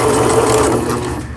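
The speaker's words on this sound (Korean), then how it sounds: "지금 이제 오버록 스티치를 하고 있는 영상이 되겠습니다." A Juki HZL-50Z sewing machine runs an overlock stitch on fabric, a steady close mechanical chatter that stays loud throughout the short burst.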